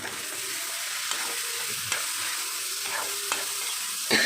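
Steady oily sizzling of dried fish thokku frying in a pan, with occasional scrapes and clinks of a utensil stirring through it.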